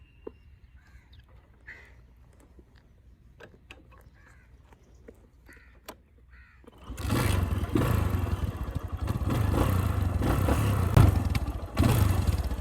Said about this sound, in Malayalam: വണ്ടി ഒന്ന് സ്റ്റാർട്ട് ചെയ്ത് ഞാൻ കാണിച്ചു തരാം